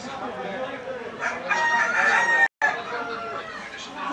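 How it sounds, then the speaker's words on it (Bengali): Chickens at a busy city poultry market cluck and crow continuously, several birds close together with a rooster's call rising above, a brief silent gap midway and faint background voices. "অসংখ্য মুরগি কিন্তু এখানে আছে"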